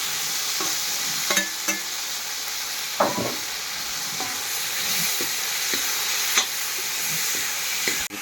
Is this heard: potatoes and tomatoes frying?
yes